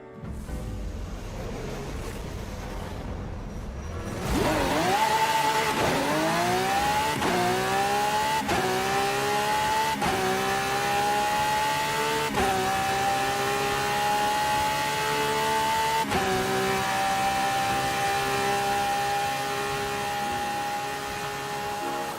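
Car accelerating on a drag strip in Forza Horizon 5, engine launching after a brief tire squeal and revving hard through a series of gear shifts, each change marked by a dip and a fresh climbing whine.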